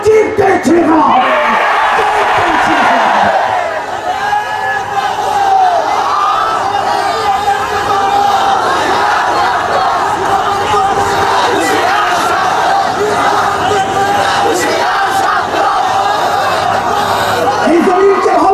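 A large crowd roars and shouts at a religious political rally in Hathazari, a dense, continuous wall of massed voices and chanting that stays loud and close throughout.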